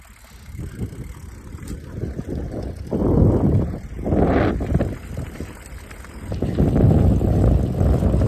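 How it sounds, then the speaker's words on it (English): Bicycle rolling downhill on a mountain trail, rumbling tire and gravel noise with heavy wind buffeting the microphone in surging waves. "I made it back to my bike. I bike down."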